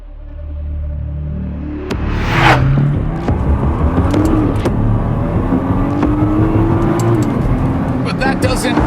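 A 2009 car engine rated at 480 horsepower revs up in rising, sweeping pulls over a deep rumble. It is loud and close, with muffled voices underneath.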